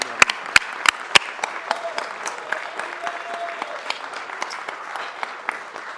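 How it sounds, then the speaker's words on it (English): Applause from a city council audience welcoming the governor-elect of the state of Puebla in Los Angeles, steady crowd clapping with a few sharp, close claps standing out near the start. "Let's give a rounding applause."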